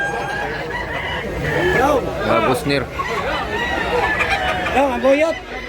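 Chickens and roosters at a poultry sale, including gray fowl, crow and cluck in drawn-out rising calls, close by and over steady talk from several people.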